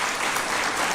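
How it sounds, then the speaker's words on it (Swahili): Sustained applause honoring Coach Cheche of the Kenyan women's football team at a State House reception, a dense, steady clatter of many hands filling the room throughout. "Coach Cheche, tumpigie makofi huyo"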